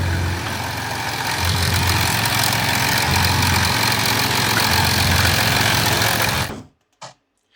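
Audi A6 3.0 TDI diesel idling with its hood open, recorded close in the engine bay: a loud, steady mechanical hum with a faint ringing tone layered on top, cutting off abruptly near the end before a brief final thump.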